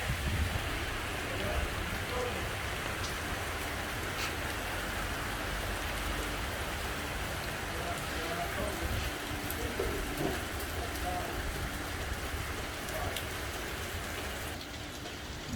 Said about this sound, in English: First rain on the island.